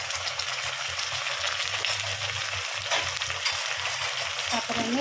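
Onions frying in a pan for aloo dum biryani, a steady broadband sizzle held close and even, with occasional stirring scrapes and no talk.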